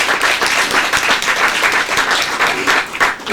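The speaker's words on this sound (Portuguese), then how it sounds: "uma salva de palmas para o Senhor Jesus" An audience in a council chamber gives a sustained round of clapping, loud and even from start to finish with no pause.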